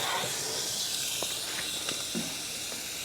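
A dry-aged tomahawk steak coated in beef tallow sizzles in a hot wood-fired Gozney Dome XL oven. It gives a steady close hiss with faint crackles and pops throughout.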